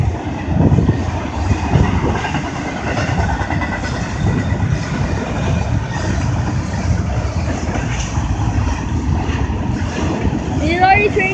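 A CSX freight train rolls past loud and close, a steady rumbling roar of wheels and cars over the rails throughout, with a brief squeal near the end.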